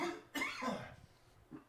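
A single person coughs once, close up, with a short throaty burst followed by a trailing exhale and a faint second catch at the end, heard alone without talk.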